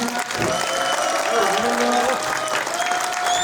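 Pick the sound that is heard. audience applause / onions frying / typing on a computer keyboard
audience applause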